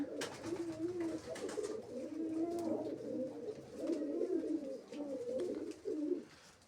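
Adult pigeons in a loft giving continuous overlapping low cooing calls at close range, a steady warbling murmur from several birds throughout.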